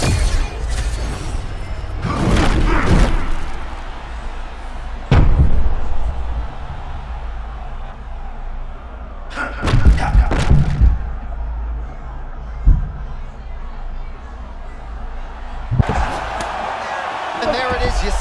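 A takedown slam in EA Sports UFC 6, Brandon Moreno against Tagir Ulanbekov, lands as a few heavy thuds spread apart over a crowd murmur, with commentators talking throughout.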